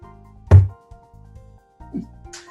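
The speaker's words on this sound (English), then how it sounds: "and a tiny little knock." A small knock on a wooden door: one soft, dull thump, then a fainter tap about a second and a half later, both close and isolated over a quiet background hum.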